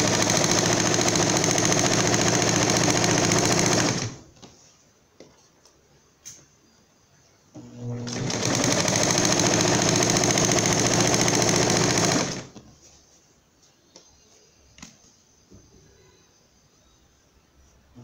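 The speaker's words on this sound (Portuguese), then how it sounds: "Agora eu vou levar na máquina para costurar esse lado aqui de novo e já volto." A sewing machine stitches fabric in two loud, steady bursts of about four seconds each, close up, with quiet handling noises between them and afterwards.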